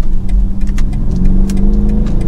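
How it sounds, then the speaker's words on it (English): A BMW 230i M Sport with a four-cylinder engine accelerates, its loud, steady engine note rising smoothly at close range over a short stretch. "We'll do one last acceleration and then wrap it up."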